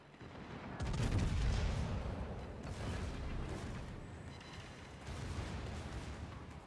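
Warship gun salvo in a naval combat video game, a heavy booming blast followed by sustained low rumbling and further distant firing, dense and continuous with no talk.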